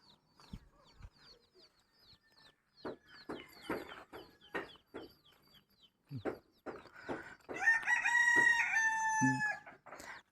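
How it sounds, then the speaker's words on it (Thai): Roosters crow in a rural village in the morning, with scattered clucks and short calls at a moderate distance, then one long, loud crow near the end, in an otherwise quiet setting. "เสียงหมูเสียงเป็ดเสียงไก่"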